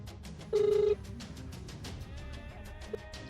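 Phone ringing while calling an office: a short, steady electronic ring tone sounds once over a faint room background, with no talking.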